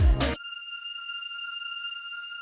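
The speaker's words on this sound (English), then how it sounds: "This is a preset called Classical Music. It's pretty much like a stock string sound, but it works very nicely in the high registers." A high-register synth string note from the stock-like 'Classical Music' preset in Cubase holds steady and bright after a brief noisy burst at the start.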